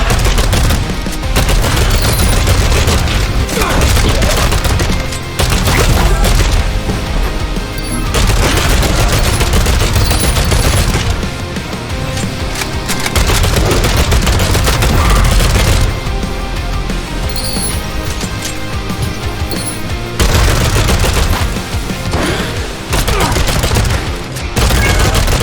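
Explosions and rapid gunfire in the roguelike shooter Dead Hook roar continuously at high volume, dense overlapping blasts with only brief dips, no talk over them.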